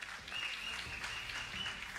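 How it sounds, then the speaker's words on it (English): Applause for competitors at a Marvel Contest of Champions Battlegrounds tournament watch party, fairly faint steady clapping running throughout the short stretch. "Can we get a round of applause for all of our competitors today?"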